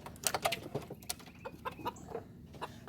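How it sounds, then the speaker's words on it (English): Chickens clucking and squawking in a farm chicken yard, a busy flock of close, overlapping calls in quick irregular bursts, with no talk over them. "I'm wondering why my chickens freak out like that when I put feed, or sometimes just even open the door"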